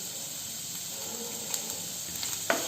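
Onions fry over a medium flame in a pan, a steady soft sizzle and hiss running throughout, broken by a few small pops and a clink near the end, with no one speaking.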